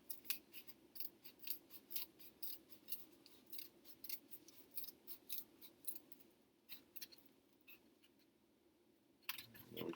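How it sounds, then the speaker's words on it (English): Scissors cut through thick craft material for a 3D dragonfly project in short repeated snips, close and crisp, a rapid series of small cuts with brief pauses and a final louder snap. "when you're cutting something really kind of thick like this, I'm just I'm making little cuts instead of trying to use the whole full length of the scissors"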